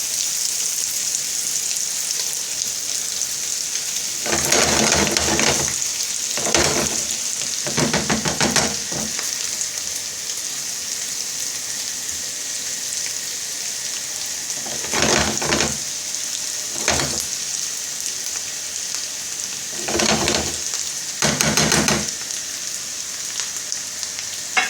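Potatoes fry in butter in a pan with a constant bright sizzle, broken by bursts of louder crackling and stirring every few seconds, close up with no talking.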